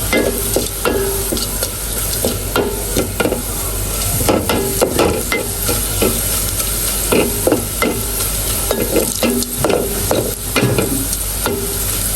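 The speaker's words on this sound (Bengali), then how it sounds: "এই চুলায় আমরা মুগ ডালটা এখন বাগার দিয়ে নিব" Moong dal being tempered in a hot pan for a dish with goat meat: a steady, close sizzle runs throughout, broken by repeated scraping strokes of a spoon stirring against the pan.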